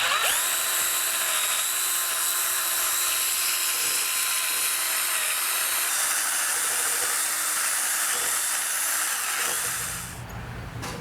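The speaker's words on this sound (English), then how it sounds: "I'm going to use a wire wheel and the drill to try to clean this old paint off" A steady, high-pitched whirring electric drill with a scratchy wire-wheel grind stripping old paint from a 1972 Honda CB450 part, running continuously and loud, then easing off near the end.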